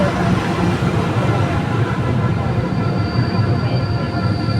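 SM42 diesel locomotive 523 hauls a double-deck regional train past at close range, a loud steady rumble of engine and rolling wheels filling the whole stretch without pause.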